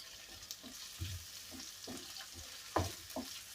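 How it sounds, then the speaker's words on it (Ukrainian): Sliced carrot rounds sauté with onion in a pan. A quiet, steady sizzle is broken by intermittent scraping stirs, heard close and alone. "цибулька у мене протушується, і я сюди буду морквицю викидати"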